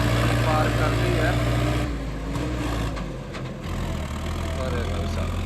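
Sonalika 750 tractor hauling 200 quintals of soil up a steep hill gives a loud, low engine drone that eases slightly after about two seconds, with people talking over it.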